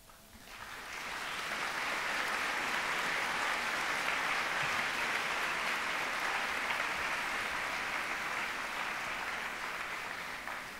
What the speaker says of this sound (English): Let's give him another round of applause, ladies and gentlemen.